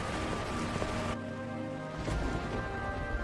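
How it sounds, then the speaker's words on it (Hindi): Heavy rain pours down steadily in a thunderstorm, a dense close hiss that drops in intensity partway through, with a faint low rumble near the end; no voices. "आसमान में जोर जोर से बिजली कड़कने लगती है और बहुत तेज बारिश शुरू हो जाती है"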